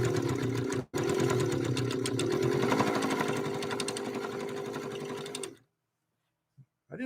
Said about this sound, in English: 2 layers of Italian leather, and we're going to be laying down the 3-point zigzag